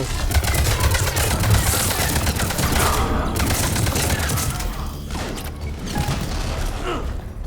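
Enemy gunfire in Mass Effect 3 rattles continuously in dense, rapid volleys with mechanical clatter, loud and close throughout, while a voice is faintly heard amid the battle noise.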